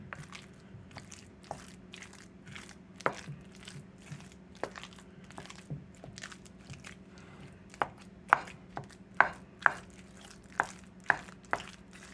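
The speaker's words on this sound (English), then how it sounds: "I'll just take me a spoon and kind of mix them in." A spoon works through mashed sweet potatoes, giving soft thuds and clacks that come faster and louder toward the end. There is no speech.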